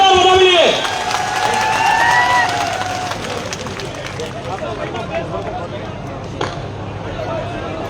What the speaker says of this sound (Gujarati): એક વખત તાળીઓના ગડગડાટથી જોરદાર વધાવી લઈએ.